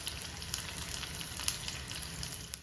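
Three or four dried red chillies and curry leaves frying in hot oil for a Kerala-style tempering, a continuous soft crackling sizzle with occasional small pops, fairly quiet and steady.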